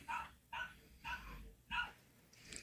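Dogs bark in four evenly spaced, fairly faint woofs, each a short burst with pauses between, heard alone without talk.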